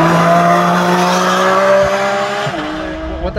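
Porsche GT4 RS race car driving hard, its loud engine note holding steady then dropping as it shifts or lifts, with tire noise, close and continuous with no talk.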